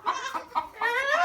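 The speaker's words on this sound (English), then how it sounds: "This chicken ain't very happy." An unhappy chicken clucks and squawks close by on a chilly goat farm, a few short agitated calls ending in a longer strained cry.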